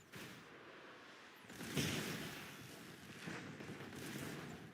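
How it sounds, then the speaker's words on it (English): A Vanguard bomber strikes ground troops in the strategy game Warpath: rumbling explosions swell and roll through a distant, low-level battle din, with a sharper blast near the middle. "Kherson just annihilated a ground troop with his Vanguard bomber"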